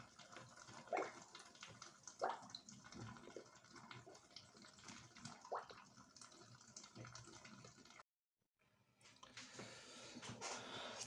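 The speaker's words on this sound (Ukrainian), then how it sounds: "Все, доспускаю воду" Water draining out of a household water heater boiler during cleaning, a steady gurgling and splashing flow that briefly cuts out and then resumes more evenly.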